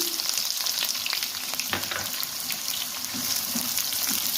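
Long-sliced onions sizzle in oil in a pan with bay leaf, star anise and cinnamon for an egg biryani, a steady close crackle broken by a few scraping stirs.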